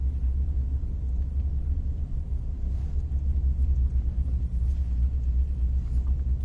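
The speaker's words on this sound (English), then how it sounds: "as we're cruising through the parking lot here" A car rolls slowly through a newly built parking lot on a theme park opening day, with a steady low engine and road rumble filling the cabin and no voices.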